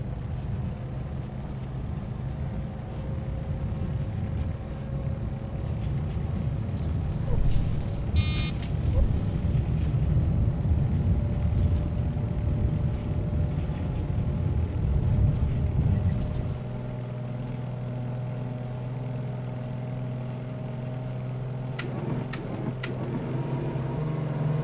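The big radial engines of a Carenado Beech 18 tail-dragger in a flight simulator drone low and steady through a takeoff roll, then the pitch and texture shift partway through as the power setting changes.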